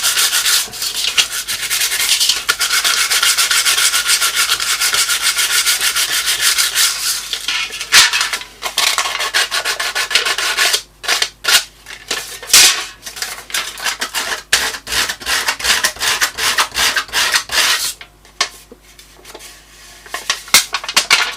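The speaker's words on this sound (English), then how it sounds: "I'm just getting these edges smoothed down a bit." The cut edges of an old aluminium drinks can are sanded smooth with steady, close rasping strokes, continuous at first and then breaking into short, choppy bursts.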